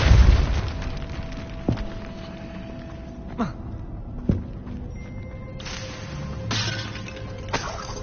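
A Depulso spell from the video game Hogwarts Legacy fires with a heavy booming burst at the start, followed by sparse whooshing cracks and pops over a low, steady game ambience.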